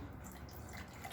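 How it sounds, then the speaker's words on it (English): Apple juice poured off from a bottle while making basic cider, a soft, faint liquid trickle with light dripping, close by and brief. "pour off some of the apple juice because we need some headspace because it's going to froth up"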